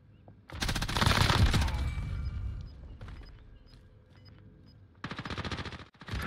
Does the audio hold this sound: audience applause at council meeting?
no